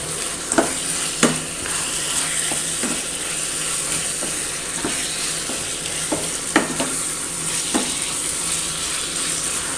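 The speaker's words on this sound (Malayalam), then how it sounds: "ഇനി ഇത് നന്നായിട്ടൊന്ന് മിക്സ് ചെയ്തെടുക്കാം" Beetroot and date pickle is stirred in a hot pan, giving a loud, even sizzle and hiss with repeated sharp clicks of a spoon knocking the pan at irregular intervals.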